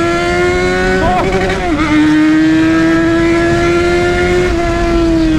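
Yamaha XJ6 motorcycle engine, modified, revving steadily and loudly up close, with a couple of brief throttle dips before it holds a sustained high drone.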